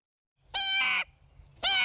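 An 11-year-old boy imitates bird calls with two loud, harsh crow-like caws, the first held for about half a second and the second arriving after a short pause, close up and alone.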